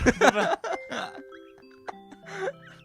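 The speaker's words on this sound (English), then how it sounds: "Every time we say Steve Bould, the bell rings." A bell chimes a few times with ringing tones that decay slowly, mixed with voices talking and laughing nearby.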